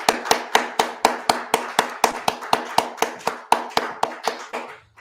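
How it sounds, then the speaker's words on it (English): A standing audience applauds its founder with steady, unison rhythmic clapping: about twenty sharp, evenly spaced claps at roughly four per second, loud and close, with no talk. "give a round of applause for our founder"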